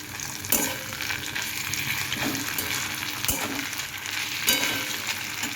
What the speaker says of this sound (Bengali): পোস্তটা দিয়ে আমি খুব ভালো করে নাড়াবো